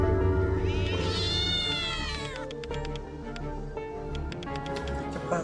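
A cat lets out a long, drawn-out rising and falling meow, near and clear, followed by quieter rapid tapping clicks and background murmur.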